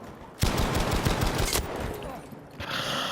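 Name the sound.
gunfire from a sniper in the video game Battlefield 5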